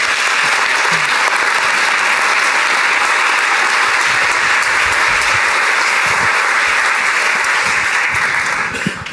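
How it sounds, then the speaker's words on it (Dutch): Warm studio audience applause greets the guest, Neelie Kroes, on a Dutch interview show, a dense steady roar of clapping holding loud and even for about nine seconds before tapering at the very end. "warm applaus voor onze gast van vandaag in de Operatie Interview"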